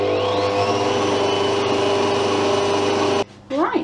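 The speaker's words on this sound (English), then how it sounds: "I'm just gonna put the mixer back on just to mix those through." An electric mixer whirs loudly and steadily as it blends sponge cake batter for a Victoria sponge, then cuts out abruptly near the end, followed by a brief bit of talk.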